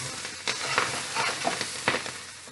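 Vegetables braise in a pan with a close, soft sizzle punctuated by several short scraping and stirring bursts.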